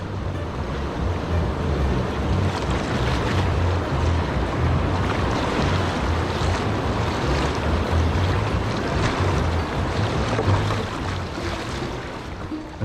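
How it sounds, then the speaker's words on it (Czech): Lively river water on the Malše flows and splashes beneath a paddler's boat in a steady, loud, close rush that runs unbroken, with wind buffeting the microphone. "Ten první úsek je hodně živej, ta voda hezky teče, šplouchá a tak."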